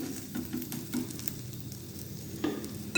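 A mooli paratha sizzles on a hot griddle, a soft, steady frying hiss with a few faint scrapes, close by and with no talking.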